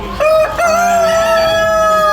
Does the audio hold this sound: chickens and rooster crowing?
yes